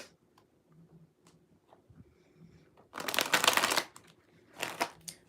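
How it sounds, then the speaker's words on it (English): Tarot cards being shuffled in two brisk riffling bursts, the first longer and louder, close up after quiet soft handling taps. "Let's gonna shuffle these a little bit more."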